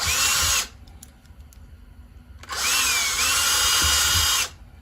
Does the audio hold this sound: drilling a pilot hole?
yes